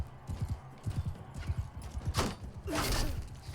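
Steady clip-clop of galloping horse hooves in Mount & Blade II: Bannerlord, rhythmic and close, with a whoosh and clatter of battle near the end.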